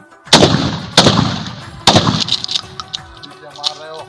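Gunfire at a firing practice range: three loud close shots roughly a second apart, each with a rolling echo, followed by fainter scattered reports, with shouted commands around the firing.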